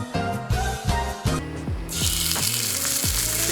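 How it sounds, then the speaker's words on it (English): Chicken breast searing in a hot pan over high heat: a broad, steady sizzle swells in about halfway through and continues to the end, following a stretch of low, pitched tones. "you should hear that sizzle, or that sound of like they're burning"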